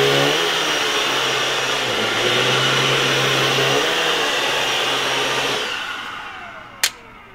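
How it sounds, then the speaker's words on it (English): A Miele Triflex handheld stick vacuum cleaner runs with a loud, steady whirring drone that holds for several seconds, then powers down and fades, followed by a brief click. "The first, which I'll demo, is the traditional handheld stick vacuum."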